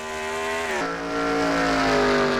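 Race car accelerating out of pit road at a Southern short-track heat race at Atlanta, a loud close engine whine climbing steadily in pitch after a brief gear change.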